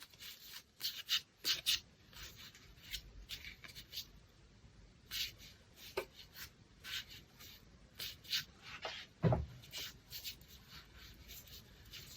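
Tarot cards are shuffled close by, giving soft, irregular papery riffles, slides and taps against a quiet background, with no speech.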